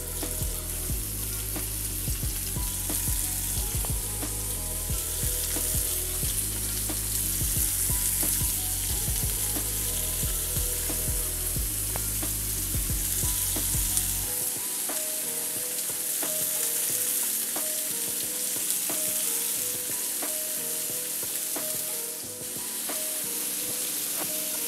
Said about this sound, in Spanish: Ya está caliente mi sartén y yo voy a agregar mis rollitos de hamburguesas.